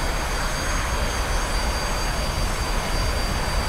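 A T-45C training jet's engine spools up to maximum RPM for takeoff, a loud, continuous roar with a steady high whine sitting on top, close and unbroken throughout.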